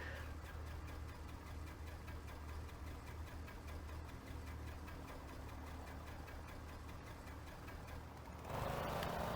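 A Ka-10M helicopter engine in Microsoft Flight Simulator cranking and catching while the starter key is held, a steady, rapid knocking piston chug that runs evenly before a louder rough surge near the end.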